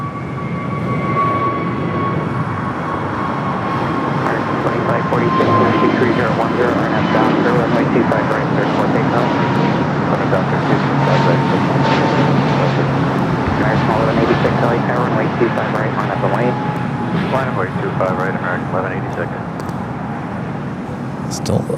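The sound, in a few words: Airbus A320neo jet taking off at LAX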